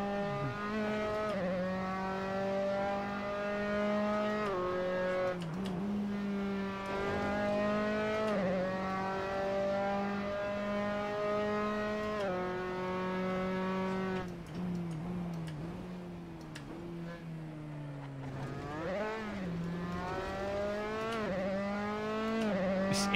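Radical SR3 race car engine in rFactor 2, droning loudly and continuously with rising and falling revs through gear changes, a brief dip mid-run before climbing again, no voices over it.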